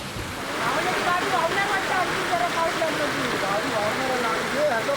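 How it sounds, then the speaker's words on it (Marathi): Heavy monsoon rain and flooding river water in Ratnagiri district, a dense steady rushing wash of water, loud and continuous, with indistinct voices faintly mixed in. "सकाळपासूनच सरींवर सरी कोसळत आहेत."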